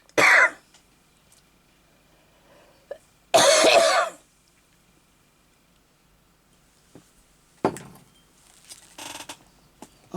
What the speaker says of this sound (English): I'm sorry everybody, I don't mean to cough at you